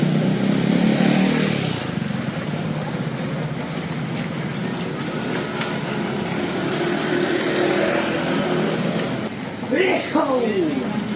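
Scooters and motorbikes ride along a busy Sunday street on Koh Phangan, Thailand, with a constant loud roar of engines close by and a higher revving pass near the end.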